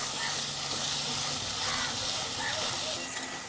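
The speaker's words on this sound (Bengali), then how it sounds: "এবার আমি তেলের মধ্যে দিয়ে দিচ্ছি পেঁয়াজ কুচি। এবার তেলের সঙ্গে পেঁয়াজটা একটু নাড়াচাড়া করে ভেজে নেব।" Chopped onion fries in hot oil, giving a dense, steady sizzle and hiss close by that keeps up without a break.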